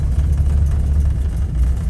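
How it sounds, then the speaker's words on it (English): A cammed 1970 AAR Cuda 340 six-pack V8 fitted in a 1972 Plymouth Duster idles with a deep, steady low rumble, close and loud, with no voices. "it's cammed up, so it's idling rough"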